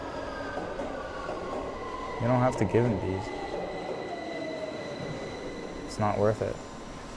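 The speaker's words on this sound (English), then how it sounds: "It's a public train. Let him run if he wants to." Steady rumble and clatter inside a moving public train carriage, continuous throughout, with two short bursts of nearby people talking over it.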